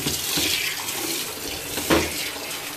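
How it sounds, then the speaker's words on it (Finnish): Hot water runs steadily from a tap for hand-washing laundry, a close, continuous splashing gush with a brief surge near the end and no talking. "Sieltä kuumaa vettä."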